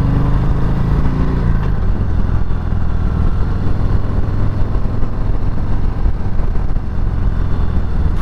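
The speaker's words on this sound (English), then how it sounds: "Pretty nimble for such a big, bulky looking bike." A 2023 Harley-Davidson Heritage Classic being ridden, its steady engine rumble and road noise loud and continuous from start to finish, with no talking.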